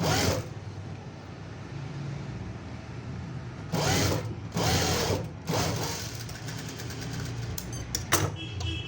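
Electric sewing machine stitching a princess cut blouse, short bursts of fast whirring stitches starting and stopping, near and moderately loud, with light handling noises between runs.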